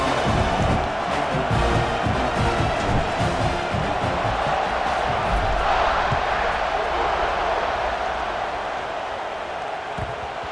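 A virtual stadium crowd in EA Sports College Football 26 keeps up a continuous roar and cheer at kickoff, easing slightly in volume toward the end.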